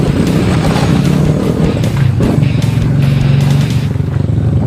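A motorcycle roars along the road close by, its engine rasping loud and rising and falling as it revs past amid general traffic noise.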